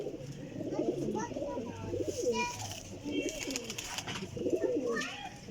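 Sialkoti Jonsira pigeons cooing repeatedly, several overlapping throaty coos in a steady rhythm at close range, with faint chirps and rustling behind.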